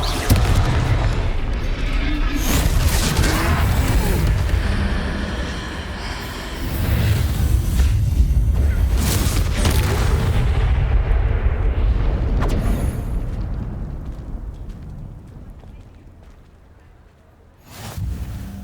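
A Confringo explosion spell in Hogwarts Legacy bursts in loud booming blasts amid a dense, sustained roar of fiery combat effects that fades toward the end, with a voice heard briefly.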